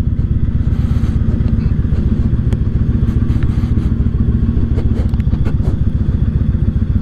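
Yamaha Raider cruiser motorcycle riding on a warm day in Southern Maryland, a steady loud rumbling engine with a fast regular pulse held throughout, with faint clatter over the top.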